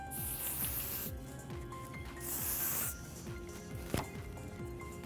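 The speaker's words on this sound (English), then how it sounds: "I'm going to set with a Stronghold hairspray" Two short, close bursts of Stronghold hairspray hiss over a faint background clatter as hair is set after styling.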